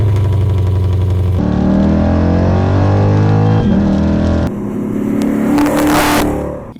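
A 414-horsepower Lexus super sedan engine revs hard, a loud, close, throaty roar that climbs and falls in pitch through several surges before fading at the end, with no talk over it.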